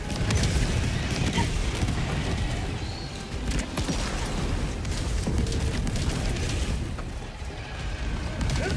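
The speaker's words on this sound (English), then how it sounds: "Orbital barrage incoming. Stand clear." Orbital barrage strikes in a video game land as a continuous roll of deep, rumbling explosions and booms, dense and overlapping with no pause between blasts.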